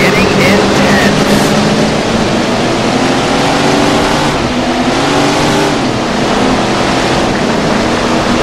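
Sprint car engines roar without a break in the Tony Stewart Sprint Car Racing video game, a loud dense drone with shifting pitch.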